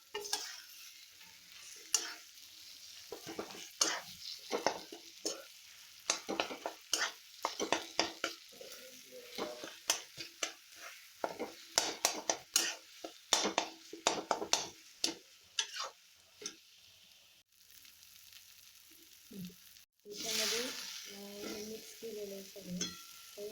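Mashed aubergine bharit being stirred and mixed in a pan: a spatula scrapes and taps in quick, irregular strokes over a faint sizzle, and a louder rustling burst comes near the end.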